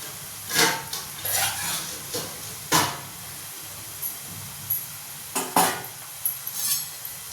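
Potato fingers turned one at a time in a frying pan: intermittent scrapes and light clinks of a utensil against the pan over a faint background sizzle, with no talking.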